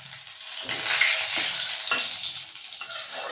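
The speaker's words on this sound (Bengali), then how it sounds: "এই তেলে চিনি প্রায় গলেছে তাই আমরা এর সঙ্গে দিচ্ছি ফোড়নে কালো জিরা শুকনো লঙ্কা তেজপাতা আর গোটা গরম মশলা" Black cumin, dried red chillies, bay leaf and whole garam masala hit hot oil with melted sugar: a loud, crackling sizzle that swells and stays busy, with stirring scrapes, then cuts off.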